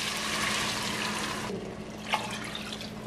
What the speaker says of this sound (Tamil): நான் 2 கப் தண்ணி அல்லாட்டிக்கு 500 மில்லிலிட்டர் தண்ணி சேர்க்க போகிறேன்